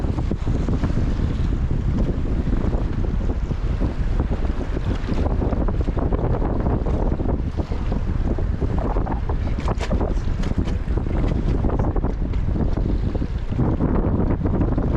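Rafting float on a river near Jackson Hole, with water rushing and splashing against the raft over steady, loud wind buffeting the microphone throughout, with no voices.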